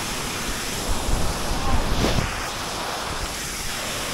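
A constant broadband roar of rushing water from a nearby waterfall on a trek in Chiang Rai, Thailand, with gusts of wind buffeting the microphone midway.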